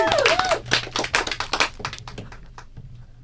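A small group claps in a radio studio, a few seconds of close, uneven hand claps that thin out and fade, with a brief voice at the start.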